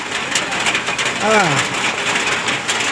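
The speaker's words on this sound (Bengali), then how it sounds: "চারদিকে বৃষ্টি, শুধুই বৃষ্টি।" Dense, steady hiss of heavy rain pouring down, with a brief voice-like sound in the middle.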